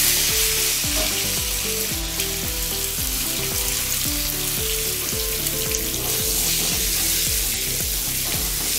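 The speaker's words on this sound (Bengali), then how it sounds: "দিয়ে আলুগুলো ভেজে নেব" Peeled potatoes fry in oil with salt and turmeric, giving a continuous loud sizzling hiss over a regular, repeating tonal beat in the background.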